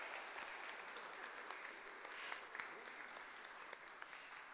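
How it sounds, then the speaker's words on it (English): A church congregation claps after a baptism at a worship service, with soft, steady applause that sounds fairly distant and fills the whole moment without any talk over it. "Look, they're clapping for you"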